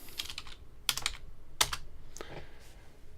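A few short bursts of typing on a computer keyboard, a handful of quick clustered keystrokes near and fairly quiet, with no talking.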